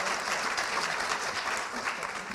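Steady, full applause from an audience at a sustainable future summit panel, many people clapping at once in a continuous, even roar with no pauses.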